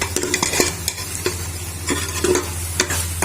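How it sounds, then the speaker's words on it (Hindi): Beans and meat for lobia gosht frying in ghee, a close crackling sizzle punctuated by rapid clattering stirs and scrapes of a spoon against the pot. "मज़ीद 2-3 मिनट हम और भून लेंगे"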